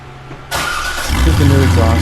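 A C5 Corvette on its stock exhaust cranks and fires up, the engine catching after a short starter whir and settling into a steady, fairly subdued idle, close and clear.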